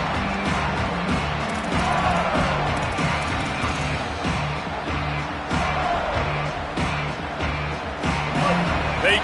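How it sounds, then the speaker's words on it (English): A football stadium crowd roars and cheers loudly and continuously during a game, with layered chanting voices and noise swelling in waves throughout. "They challenge this crowd to bring the energy, and I'd say they're doing that."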